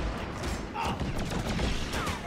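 Rapid gunfire from a weapon in the co-op video game Deep Rock Galactic, a dense burst of shots running continuously through the moment over game sounds.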